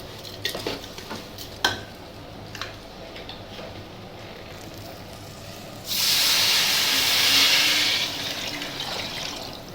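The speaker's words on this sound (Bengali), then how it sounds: "এবার জলটা দিয়ে দিই আমার পোলাওটা কষানো হয়ে গেছে" Water poured into sautéed pulao in a hot pot sets off a loud hissing burst lasting a couple of seconds, preceded by a few clinks and soft kitchen noises.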